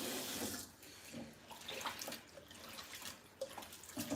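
Hot water runs from a kitchen tap during cooking, a steady close rush of splashing water that continues without a break for the whole stretch, with no voices.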